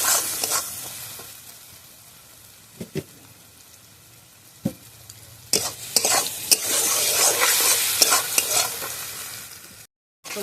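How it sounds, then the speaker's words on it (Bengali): Spice paste (masala) for a soybean chunk curry fries in a pan, with a steady sizzle under scraping, stirring strokes and occasional sharp clicks of the spoon against the pan, close and fairly loud, the frying swelling louder toward the end. "মশলা সব দিয়ে নিয়েছি, এবার ভালোভাবে কষিয়ে নেব।"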